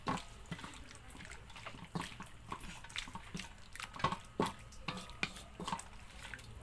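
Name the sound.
water poured into pork adobo pot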